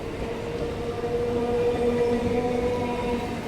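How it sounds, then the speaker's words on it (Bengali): A local train on the Katwa–Howrah line in West Bengal rumbles steadily past at close range, a continuous heavy roar with a faint whining tone over it, no voices. "আর এখানে আরেকটা লোকাল ট্রেন"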